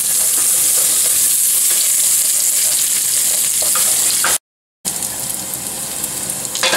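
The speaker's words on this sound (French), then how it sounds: "je vais faire revenir mon échalote française et mes petits morceaux de carottes" French shallot and small carrot pieces sauté in oil in a pan, giving a steady, bright sizzle with occasional stirring clatter. The sound briefly cuts out, then the sizzling resumes at a similar level.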